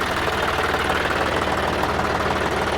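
A John Deere tractor engine idles steadily at a tractor market in Moga, a continuous low rumbling chug with no breaks, close by.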